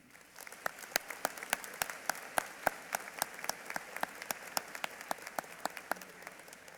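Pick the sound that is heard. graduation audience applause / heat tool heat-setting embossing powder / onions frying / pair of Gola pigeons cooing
graduation audience applause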